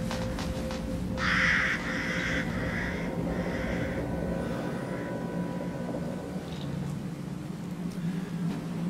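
Crows caw several times in quick succession inside the game Resident Evil Village, heard over a steady low ambient drone, fairly prominent at first, then fading into the background rumble.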